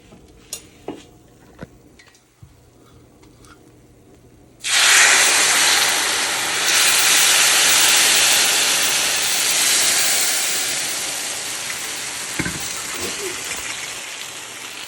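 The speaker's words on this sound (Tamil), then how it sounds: "இப்போ இங்கே சீனியும் கஸ்டர்டும் கரைச்சி வச்சுக்கிறேன் இதை அதுக்குள்ளே விடும்" A dissolved sugar and custard mixture hits ghee-roasted semolina in a hot pan, bursting into a loud, sustained hissing sizzle after a few quiet clicks, then slowly easing.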